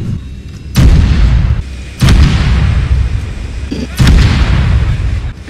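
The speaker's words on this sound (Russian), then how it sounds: "ты слышал свои выстрелы?" Three heavy booming blasts of artillery fire in the video game Arma 3, spaced a second or two apart, each followed by rumbling noise and crackling gunfire.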